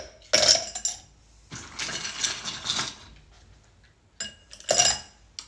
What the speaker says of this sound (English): So just throw some ice in there.